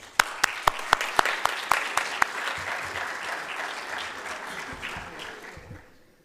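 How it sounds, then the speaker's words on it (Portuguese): A conference audience breaks into applause, opening with a few sharp, evenly spaced claps before swelling into a sustained, moderately loud round that fades away near the end. "peço-vos uma salva de palmas de reconhecimento a todos os colaboradores da Wiremaze."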